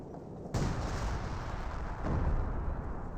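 Gunfire and heavy battle noise from the Company of Heroes 2 war strategy game, with a sudden loud onset followed by dense continuous rumbling bursts and a second swell of shots.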